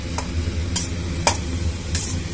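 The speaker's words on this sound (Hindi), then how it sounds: "बहुत अच्छे से इसको भून लेना है।" Aloo paratha potato filling being roasted in a pan, a low steady sizzle broken by a few sharp spoon scrapes and taps as it is stirred.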